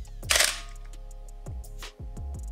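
A film camera's shutter fires several times up close, each one a crisp mechanical click or snap over a low steady hum, with short gaps between the releases.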